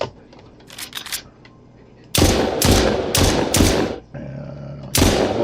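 Rapid bursts of gunfire in the Zombie Bastards first-level game prototype: several sharp, loud shot clusters after a quieter stretch with faint clicks, ending in a final burst.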